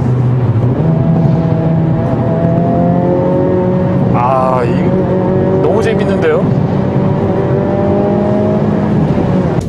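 A Hyundai Avante N (Elantra N) with a manual gearbox drives through a tunnel under a loud, steady engine hum, with brief rising revs partway through, while someone talks over the sound.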